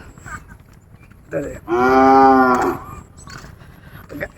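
After some quiet background, a cow gives one loud, close moo lasting about a second, with faint noise around it and no clear talking.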